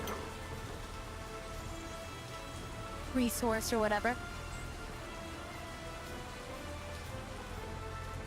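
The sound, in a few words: rain falling in video game Workers & Resources: Soviet Republic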